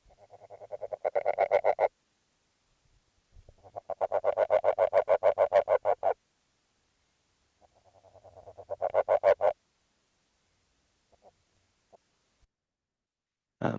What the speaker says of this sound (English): Kind of making this kind of rasping sound. This is a frog in the high Andes.